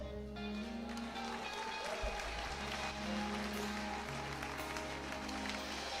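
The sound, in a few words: congregation applause in church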